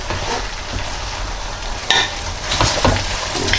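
Thick, gooey three-cheese macaroni with melted Kraft singles being stirred and folded in a pot, a steady wet squelching and scraping close up with no voices.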